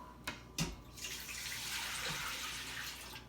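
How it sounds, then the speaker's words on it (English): A liter of milk pours into an Instant Pot pot after a couple of sharp knocks, a steady close splashing stream that runs continuously to the end with no voices. "we're going to take our liter of milk, and we're going to go over to our pot and pour the milk in."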